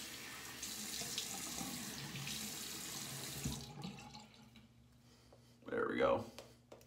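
Water runs from a bathroom tap while shaving lather is prepared. The tap hisses steadily for a few seconds, then shuts off, and a brief voice sound follows in the quieter room.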